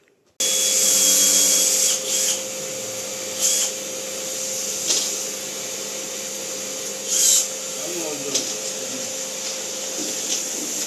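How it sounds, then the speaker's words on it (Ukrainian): A vacuum cleaner hums steadily and loudly throughout, with brief louder surges as tool bursts cut in several times. "буду тримати пилосос і всю пиль збирати"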